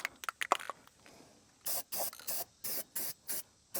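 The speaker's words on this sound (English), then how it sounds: "we are ready for our first coat. Stick with the Rust-Oleum high performance enamel." Rust-Oleum high performance enamel is sprayed from a can onto rebuilt GMC truck front suspension parts. After a few soft clicks and rattles, six or seven short, close hissing bursts follow in an even rhythm.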